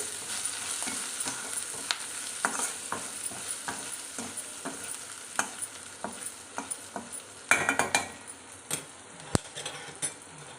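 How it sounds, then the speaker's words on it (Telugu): Mango curry ingredients with salt and turmeric frying in a pan, a steady sizzle under frequent scraping and clinking as a spoon stirs them, close and fairly quiet, with no voices. "కొంచెం పసుపు అంతే ఇది వేసుకొని మంచిగా ఫ్రై చేసుకోండి"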